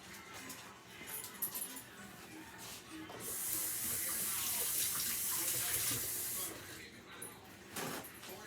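Tap water runs steadily into a kitchen sink during hand washing, a broad hiss swelling for a few seconds and then stopping, with faint kitchen clatter before and after.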